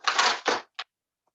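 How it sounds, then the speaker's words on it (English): A few clacking keystrokes are typed on a computer keyboard, two quick bursts and a lone final tap close by, then silence. "I'm just going to type on here."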